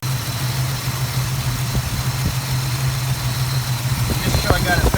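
A Plymouth Duster engine idles steadily while warming up, with a continuous low rumble close by and a few brief mechanical clicks near the end.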